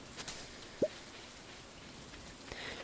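Rain falls in the video game Stardew Valley, a steady soft hiss of raindrops with a faint single pop partway through, no voices.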